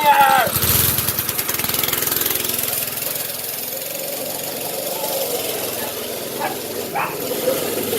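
A small yard kart engine chugs loudly and unevenly up close, its rapid knocking pulses fading into a steadier idle, with a voice talking over it and a dog barking nearby.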